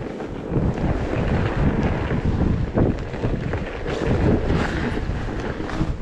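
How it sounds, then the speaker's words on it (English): Strong wind roars steadily across a snowy fat-bike trail, buffeting the microphone with loud, gusty low rumbles that swell and ease throughout, with no talking over it. "Wind's kicking up."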